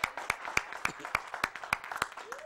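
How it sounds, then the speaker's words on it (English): A church congregation claps in a steady, evenly spaced rhythm, about ten sharp claps in a row, with voices calling out in between. "Give the Lord a hand clap and a shout"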